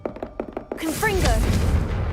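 A Confringo fire spell in the Hogwarts Legacy video game goes off as a dense, sustained fiery blast with crackling texture, following a string of short sharp knocks and thuds.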